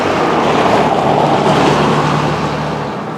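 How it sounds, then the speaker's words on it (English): A car drives past on a road nearby, a broad rushing whoosh with a low engine hum that swells and then slowly fades, heard alone with no voices. "let this car get by."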